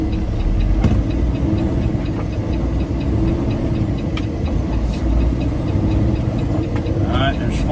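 A truck engine rumbles loudly and steadily at close range through continuous road noise while the driver works up through the gears, with a few clicks over the top and someone talking over it.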